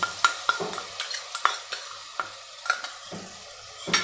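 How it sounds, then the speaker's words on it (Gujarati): A spoon scraping and stirring yogurt into aloo matar pulao in a pan, a series of distinct clinks and scrapes at an uneven rhythm over a faint sizzle, close and alone. "અને દહીંને આપણે સારી રીતના હલાવી લઈશું"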